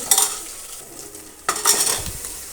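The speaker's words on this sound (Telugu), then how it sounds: "ఒకసారి అంతా బాగా మిక్స్ చేసేసుకొని ఇప్పుడు ఇందులో మనము కట్ చేసి పెట్టుకున్న సొరకాయ ముక్కలు యాడ్ చేసేసుకున్నాము" Bottle gourd pieces stir-fried in a hot pan for a curry, a steady sizzle broken by scraping utensil strokes against the pan, louder after a short pause, with no one speaking.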